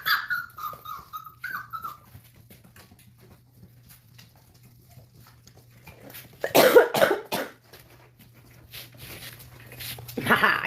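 Newborn puppies whimper and yelp in thin, high cries through the opening seconds, with a low steady hum underneath and a few louder rustling bursts later as the litter is handled.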